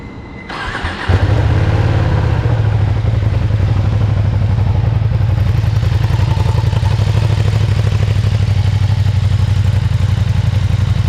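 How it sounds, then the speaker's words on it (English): A Ducati Streetfighter V2 motorcycle with its factory exhaust starts up and settles into a loud, steady, rumbling idle from the exhaust close by, with no talking. "I'll go ahead and let you guys hear the exhaust"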